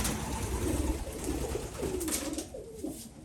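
A Belgian pigeon coos softly in a series of low, rolling calls, close by against faint background noise.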